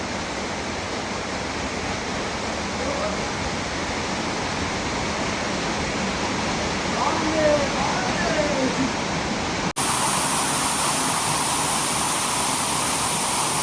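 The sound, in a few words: waterfall in Garden of Caves, Cherrapunji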